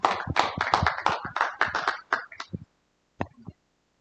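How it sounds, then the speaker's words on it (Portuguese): A workshop audience applauds a speaker with a dense burst of hand claps that trails off after about two and a half seconds. A few scattered final claps follow a brief silence. "Uma salva de palmas para a professora doutora Clarice Paes."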